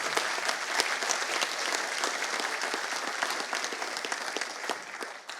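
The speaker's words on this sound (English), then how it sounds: "So let's applaud again for 2 amazing speakers." Conference audience clapping for two speakers, a dense steady burst of many hands applauding indoors, fairly even in loudness and tapering slightly at the end, with no talking over it.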